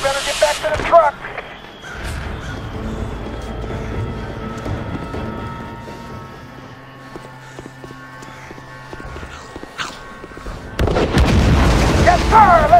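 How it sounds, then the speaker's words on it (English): Booming explosions and fireworks bursts in The Walking Dead: Survival Instinct video game, a loud rumbling blast opening and another erupting near the end, with game voices and a low mechanical drone between them. "Let's see some of those daytime fireworks"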